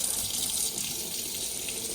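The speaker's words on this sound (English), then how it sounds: "as long as you've got the pump switched on, you'll get a pressurized flow of water" Pressurized water runs steadily from a tap in a Burstner Nexxo T690G motorhome with the pump switched on, a continuous close hiss and splash with no voices.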